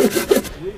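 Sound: hand saw sawing wood outdoors

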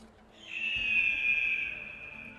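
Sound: eagle screeching in a video game, GTA 5

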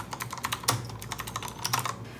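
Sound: typing on Azio Retro Compact keyboard

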